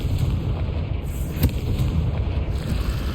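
Confringo spell explosion in Hogwarts Legacy: a dense, rumbling low-end blast with crackling debris, loud and sustained over about three seconds, with a sharper burst midway and no talk over it.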